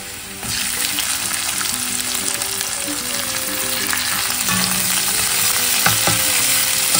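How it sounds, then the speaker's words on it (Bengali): Garlic hits a hot wok for chow mein and sizzles loudly and steadily, a dense frying hiss that runs close up through the whole stretch with occasional stirring clatters and no talk. "গরম হয়ে গেছে, সবার আগে রসুনটা দিলাম।"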